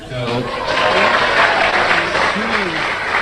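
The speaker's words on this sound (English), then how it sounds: "you got a round of applause on Goose" Audience applause in a comedy panel show, loud, dense clapping filling the whole stretch, with voices mixed in underneath.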